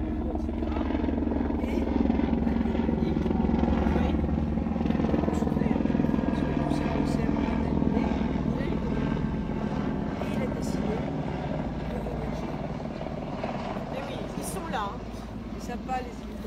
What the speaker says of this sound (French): Arrêter un peu les hélicos ici, ça fait trop de bruit